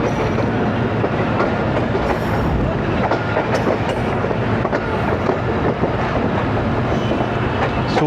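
Ravi Express passenger train running on rails between the main line and loop line near Qila Sheikhupura Junction in Pakistan, with a loud, close, continuous clickety-clack of wheels over the track joints.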